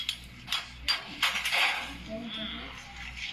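A bartender strikes a drinking glass with several sharp knocks in an uneven rhythm, ringing clinks close by, followed by softer handling sounds.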